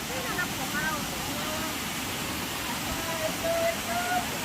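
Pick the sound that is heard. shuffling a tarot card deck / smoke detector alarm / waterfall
waterfall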